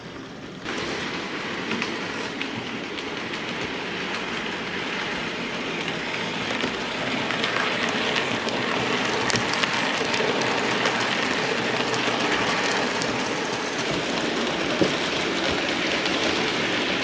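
A Hattons Class 66 model locomotive runs around a layout pulling wagons, making a steady whirring motor hum mixed with a constant fine rattle of wheels on model track, fairly noisy and continuous, with no voices.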